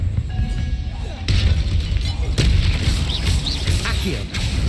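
A Confringo fire spell blasts in Hogwarts Legacy, sudden bangs and crackling bursts punching through a busy, noisy battle soundscape, loud and up close, with a voice casting spells.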